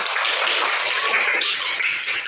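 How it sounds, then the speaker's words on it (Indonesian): A whole class of schoolchildren claps together in a classroom, a dense, steady patter of many small hands filling the room for a couple of seconds with no voices over it. "Tepuk tangan"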